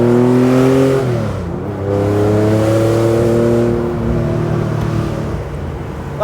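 A Theon Design Porsche 911 Targa resto-mod with a 407bhp engine accelerates hard, its loud exhaust note climbing in pitch, dropping at a gear change, then rising again steadily.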